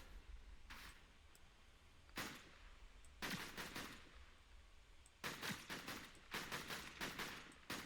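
Bursts of gunfire from the Fortnite video game come in several separate volleys, each one loud and crackling, with short quiet gaps in between and a low background hum running throughout.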